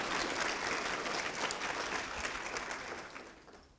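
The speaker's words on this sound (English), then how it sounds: "So a quick round of applause." Applause from a lecture audience at Virginia Tech, a dense burst of clapping that gradually thins and fades toward the end, with no voices.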